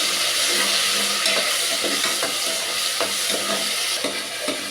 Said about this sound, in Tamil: இப்போ வந்து இஞ்சி பூண்டு பேஸ்ட்டு இந்த விருதையும் நம்ம போட்டுக்கலாம் நல்லா கிண்டிக்கலாம்